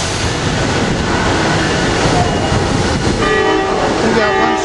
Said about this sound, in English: Here's the airport train with cars 9007, 230, actually meteor train, 9007, 231, 236, and 9013.